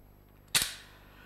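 A single sharp pistol shot cracks out once in a tense TV drama scene, sudden and loud against near silence, then quickly fades away.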